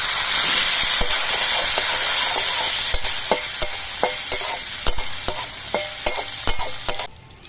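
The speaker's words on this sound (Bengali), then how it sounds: "এবার এই ঘিয়ের মধ্যে আমি কিছু কিশমিশ ভেজে নিচ্ছি।" Raisins fry in hot ghee in a wok, giving a steady, close sizzle with repeated spoon scrapes and clicks against the pan throughout, then fading at the end.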